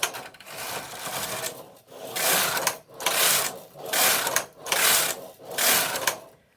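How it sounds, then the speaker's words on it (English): Silver Reed punchcard knitting machine knitting rows, the carriage sweeping back and forth in about six loud, even, rasping passes with short breaks between them, close by and without talk. "then I'm going to knit 6 more rows"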